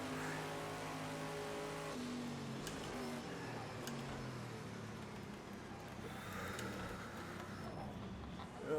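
A Porsche 962C race car engine in Project CARS 2 at Le Mans 1989 drones loud and close, pitch climbing through gears and then easing off into a lower rumble, with faint tire and wind noise.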